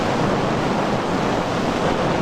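Rushing water at Niagara Falls makes a dense, steady roar of broadband noise that holds evenly throughout, with no breaks or distinct events.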